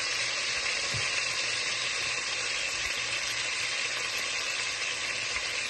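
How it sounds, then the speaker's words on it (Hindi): Chicken sizzles steadily in hot oil for a black pepper karahi, a dense continuous frying hiss with occasional faint pops, close and even throughout. "ये सारा चिकन मैंने ऑयल में डाल दिया है। इसको मैं 1 से 2 मिनट के लिए पका लूंगी अच्छी तरीके से।"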